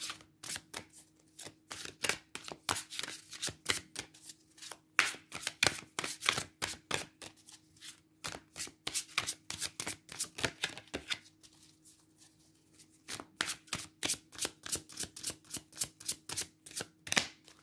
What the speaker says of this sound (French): Je mélange un petit peu les cartes groupe numéro 2 et on y va.